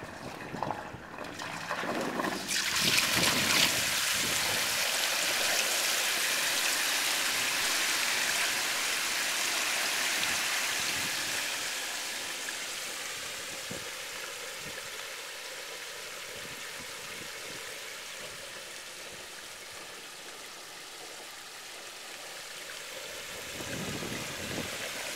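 Water released from a borewell gushes and rushes continuously, loud at first and then settling into a steady flowing roar that lasts throughout, with no one speaking.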